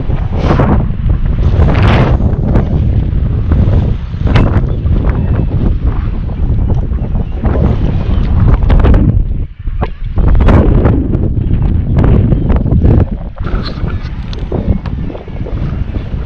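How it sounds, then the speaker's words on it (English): Strong, steady wind on the Northumberland coast buffets the microphone with a constant low roar, and faint wave and water sounds sit beneath the gusts. "A bit windy though here."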